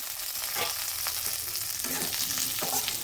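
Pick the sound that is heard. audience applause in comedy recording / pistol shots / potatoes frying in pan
potatoes frying in pan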